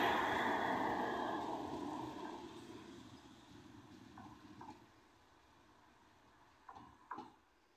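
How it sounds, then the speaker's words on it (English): A double Metrolink tram passes through Piccadilly at night, a broad rumble that is loudest at first and fades away, followed by a few faint clunks and knocks. "It's a double Metrolink heading through"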